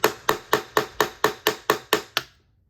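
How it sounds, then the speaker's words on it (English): Nine sharp, evenly spaced hammer blows land on a part being driven into an AR-15 rifle, each one a loud metallic whack that rings briefly before the next, then the clip falls silent. "We might have to pound the crap out of it because it's new, so give it a couple of good whacks."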